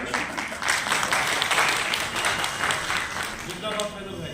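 A crowd applauds steadily for several seconds, the clapping dense and fairly loud before tapering off at the end.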